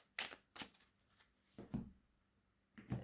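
A deck of oracle cards is shuffled by hand in a few soft, papery bursts separated by short pauses, quiet and close, with no speech.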